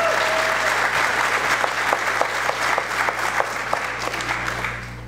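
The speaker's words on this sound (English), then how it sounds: "We can give her a round of applause now." A large audience claps steadily and loudly at a school district leadership retreat, sustained applause filling the room for several seconds without talk over it.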